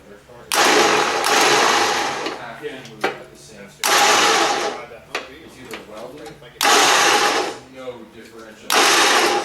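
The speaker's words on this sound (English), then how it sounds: "My winch is all hooked up, ready to go." A Jeep winch motor runs in loud, steady bursts of whirring, starting and stopping four times with short gaps between them, while people talk in the pauses.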